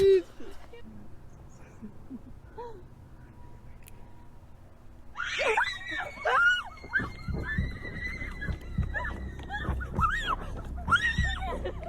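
Shrill, wavering screams and high cries erupt after a quiet stretch, loud and repeated over a rumbling background, with voices mixed in.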